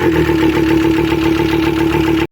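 A Volkswagen car engine idles steadily after being started with a spray of starting fluid, loud and close with an even mid-pitched drone and a faint knock, then it cuts off abruptly.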